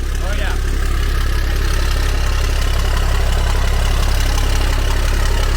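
A Cummins diesel engine fitted in a Ford truck idles at first start-up, a loud, constant low-pitched rumble with a steady knocking rhythm that holds throughout.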